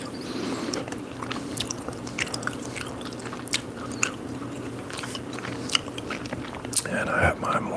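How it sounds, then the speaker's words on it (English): Close, steady chewing of a piece of watermelon-flavored gum, with soft wet smacks and squishy bites repeating irregularly throughout, a faint low room hum underneath and no clear talking. "I got a piece of gum. I think it's watermelon flavored"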